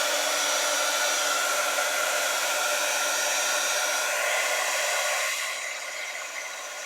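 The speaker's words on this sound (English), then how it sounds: "I'm going to go for my heat tool again and warm it up." A heat embossing tool blows hot air in a steady, close, loud whoosh, like a small hair dryer, dropping slightly in level near the end and heard alone without speech.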